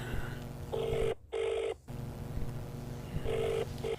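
A telephone rings back on an outgoing call, giving several steady, moderately loud tone bursts with short gaps between them over a faint background hum.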